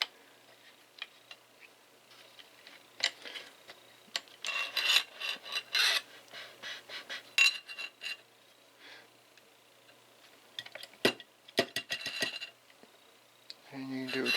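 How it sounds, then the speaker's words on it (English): A wing nut being screwed back onto a Nano Pro rotary tool by hand makes small, close scraping and clicking metal-on-metal rasps in intermittent bursts, with brief bits of speech among them. "And then all you gotta do is just screw that back in."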